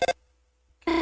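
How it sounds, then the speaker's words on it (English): A phone rings in the video game Deltarune: two short electronic tone bursts, then a near-silent gap, then the loud ring tone starts again, alone without talk. "Sorry, phone call."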